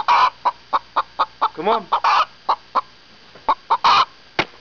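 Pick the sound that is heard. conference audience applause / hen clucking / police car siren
hen clucking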